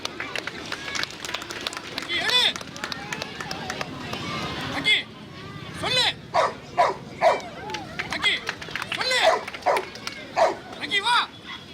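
Sniffer dogs bark and yip in short bursts at a Republic Day stunt show, with crowd noise and running steps under a busy, echoing outdoor scene.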